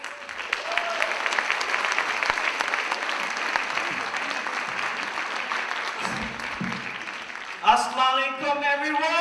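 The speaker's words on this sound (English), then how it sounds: "Please give a big applause for us." An audience applauds at an evening gathering, sustained dense clapping from a crowd that carries on for several seconds before a voice starts speaking over the end.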